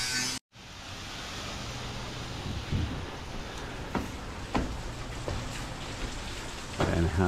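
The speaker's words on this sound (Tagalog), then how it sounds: "Maulan." Steady rain falling at a house construction site, a modern bahay kubo with tiles being installed, giving a continuous broadband hiss with a few brief louder knocks and taps over it.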